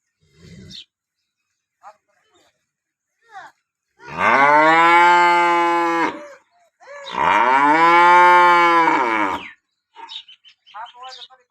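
A cow in a dairy shed during milking gives two long, loud, close moos in a row, with a few faint short noises around them.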